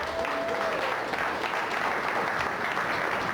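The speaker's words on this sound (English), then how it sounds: "give a round of applause for Eddie" An audience applauds for Eddie with steady, dense clapping that fills the room from start to finish, and faint voices mix into it.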